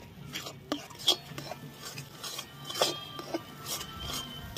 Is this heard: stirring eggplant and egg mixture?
yes